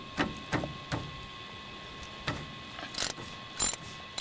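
A ratchet loosens the 10 mm brake caliper pins on a 1996 Dodge Dakota during a brake pad change, making a few sharp metallic clicks and clunks spaced apart against a faint steady hum.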